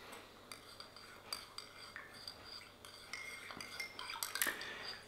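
Coffee stirred in a cup, quiet light clinks and scrapes of a spoon against the cup, irregular and close, without speech.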